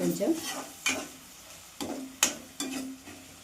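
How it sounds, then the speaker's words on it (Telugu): Masala fries in a pan, with a soft sizzle under several distinct scraping stirs and clanks of a spoon against the metal, close and fairly quiet. "ఈ పచ్చి వాసన పోయేదాకా వేయించుకోవాలి."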